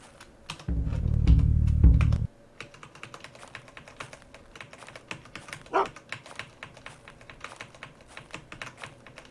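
Dogs bark in the survival game Unreal World, one loud low burst followed later by a short sharp yelp, surrounded by constant rapid keyboard clicking.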